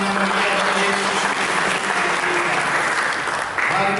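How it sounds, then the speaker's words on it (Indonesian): A church congregation claps in sustained, dense applause for about four seconds, loud and close, with a brief dip near the end. "Mari kita berikan tepuk tangan yang meriah bagi Yesus."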